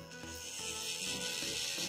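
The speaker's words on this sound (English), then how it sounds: "make sure that I get my cuticle area filed good" A mini bit on a nail drill files around the cuticle area of a fingernail, giving a steady close-up whirring rasp that runs continuously with small shifts in pitch as it moves.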